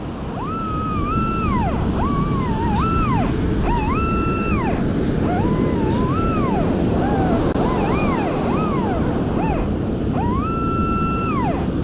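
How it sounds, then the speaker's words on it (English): Wild ocean waves near high tide make a constant, loud wash of surf and wind noise, overlaid by warbling electronic tones from a nearby metal detector that rise and fall in repeated bursts. "the waves are wild. We're closer to high tide than low tide."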